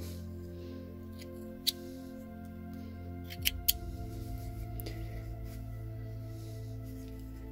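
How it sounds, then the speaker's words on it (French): Scissors snip notches into the fabric seams of a baby dress in a few sharp, isolated cuts, close and quiet, over a low steady hum. "Donc pensez à cranter avant de le retourner."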